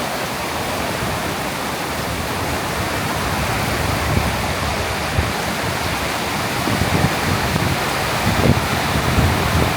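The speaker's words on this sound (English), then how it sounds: "it's amplified more when it hits the metal roofing, but the rain is hitting so much and so hard on the roofs" Heavy rain pounds metal roofing during a rainy-season downpour in Thailand, a loud, dense, continuous roar that swells slightly toward the end, with no voices.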